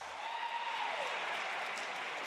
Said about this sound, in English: Everyone's clapping like,